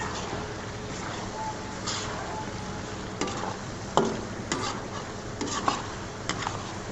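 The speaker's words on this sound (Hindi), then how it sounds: "अब इसमें थोड़ा सा गरम मसाला डाल के इसको मिक्स कर देंगे" Beef karahi with garam masala stirred in a pan, Peshawari Shinwari style, soft frying hiss under scattered clinks and scrapes of a spoon against metal, fairly quiet.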